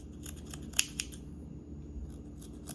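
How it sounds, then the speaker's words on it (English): Scissors snip off the top corners of a fabric duffle bag, making a couple of quiet, crisp cuts over a low background hum. "And you'll cut off those top corners."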